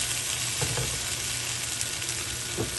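Cauliflower frying in hot oil in a home kitchen pan, a steady close sizzle and crackle with a couple of faint stirring scrapes.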